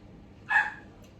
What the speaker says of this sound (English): And there goes Harley barking.